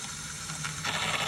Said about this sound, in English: All right, system is almost done backwashing.